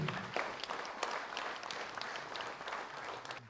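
Audience applause fills a concert hall at a tenth-anniversary jubilee concert in Daukšaičiai, a steady dense patter of many hands clapping throughout, fairly even in loudness with no speech over it.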